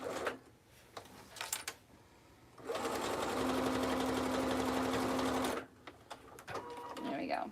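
A sewing machine stitches fabric in one steady, loud run of about three seconds, with soft handling noises and faint movement before and after.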